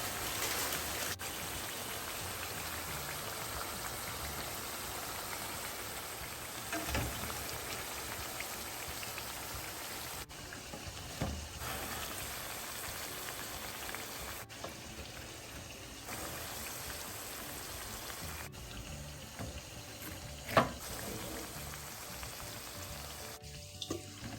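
Pieces of breadfruit fry in hot oil in a pan, a steady close crackling sizzle like light rain that runs throughout, with an occasional faint clack as pieces are turned.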